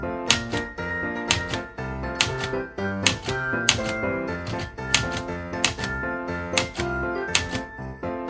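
A typewriter clacks steadily on thick paper, its keystrokes striking in quick, close bursts with regular pauses and occasional carriage sounds, loud and clear with no voices.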